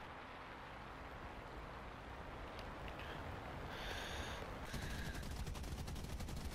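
Anti-aircraft guns fire from a spawn area in a tank battle game as rapid, distant rattling bursts under a steady wash of engine and ambient noise.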